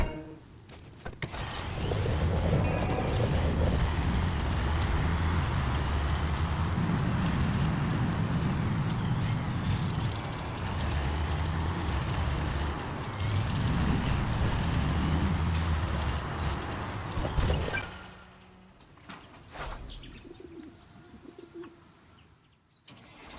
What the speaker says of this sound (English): Be a good fella and drive the flatbed truck over there.